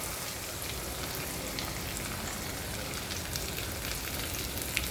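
Sliced onions fry in a pan for tomato rasam, with curry leaves already in the hot oil, making a steady, dense sizzle that holds at an even level throughout with no voice.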